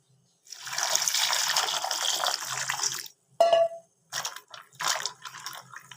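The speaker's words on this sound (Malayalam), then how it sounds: "സോയ നല്ലതുപോലെ ഒന്ന് ആദ്യം സാധാ തണുത്ത വെള്ളത്തിലൊന്ന് കഴുകി എടുത്തിട്ട് വരാം" Steady rush of running water for a few seconds, then splashy, squelching handling of soya chunks in cold water in short bursts, up close.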